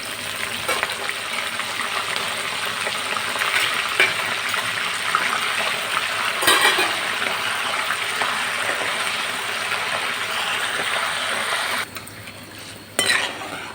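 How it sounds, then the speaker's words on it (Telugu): Cumin, dried red chillies and curry leaves fry in hot oil as a tempering, a loud, close, continuous sizzle with occasional utensil clinks that drops away near the end. "ఇక వేగిపోయిన చూసారా పోపులన్నీ"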